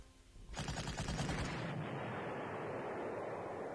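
Artillery fire in the Panzer Corps strategy video game: one sudden heavy blast with a rattling burst, followed by a long, loud roaring rumble that slowly fades.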